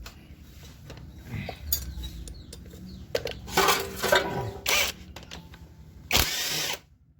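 Impact or power tool bursts loosening bolts on the magneto cover of a Kawasaki ZX motorcycle, several short whirring and rattling bursts in a workshop, the loudest near the end, with metallic clinks between them.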